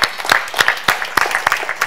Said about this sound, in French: Est-ce qu'on peut prendre le temps d'applaudir le Seigneur?